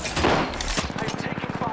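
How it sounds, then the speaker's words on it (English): Enemies fire automatic weapons in the video game Apex Legends: a loud initial blast, then a rapid, even burst of close gunshots. "The enemies are shooting at me."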